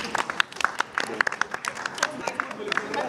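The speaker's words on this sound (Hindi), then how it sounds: "तो जोरदार खुद ही तालियां।" Scattered audience clapping at a TV comedy show launch event, uneven individual claps rising and falling amid crowd murmur and voices, moderately distant.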